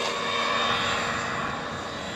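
An Arrma Typhon 223S RC car on a 3S battery runs its stock motor at full throttle, giving a loud, continuous high-pitched electric whine with steady tones that fades slightly as the car pulls away.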